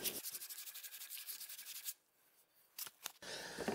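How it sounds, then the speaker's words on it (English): A wooden rolling pin handle being hand-sanded with sandpaper: quick, steady back-and-forth scratchy rubbing strokes, close up. They stop for a short pause, then a few more scrapes and a longer rub follow. "Work your way up through the sandpaper grits, stopping at the finest grit you last used to sand the rolling pin on the lathe."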